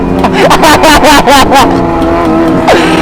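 Loud Kawasaki ZX25R motorcycle revving at close range, harsh exhaust roaring and rising in repeated bursts, a voice faintly audible under the din.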